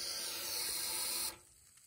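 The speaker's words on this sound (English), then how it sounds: "this is the stream that comes out of the end of the shower head" A strong stream of water jets from the end of a Yakima Road Shower head, like a fire hose, as a loud, steady hiss that cuts off abruptly partway through, leaving quiet.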